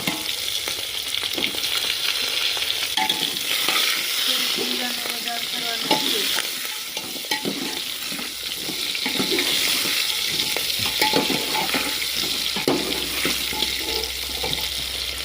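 Eggplant tossed into hot oil tempered with popped mustard seeds, sizzling loudly and continuously while a spoon stirs and scrapes the pan, with no talking.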